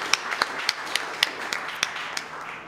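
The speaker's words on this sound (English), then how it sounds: "you can clap for that" An audience at a poetry and jazz celebration claps in scattered, sparse bursts, individual sharp claps standing out rather than a full ovation, fairly close and without talk.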